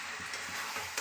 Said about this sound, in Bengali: বন্ধুরা দেখো, মাংস কষা হচ্ছে, এক কড়াই মাংস।